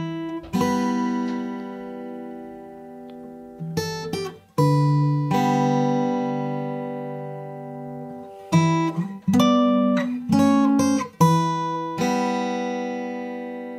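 Guitar plays a short two-line arrangement of the Haunting of Hill House theme: ringing plucked notes and chords that decay slowly, then a cluster of quicker plucked phrases, close and clear with no talking.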